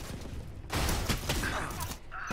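In the video game Valorant, a burst of rapid gunfire starts abruptly after a quiet moment, dense and loud at close range, then fades into a short mechanical tail.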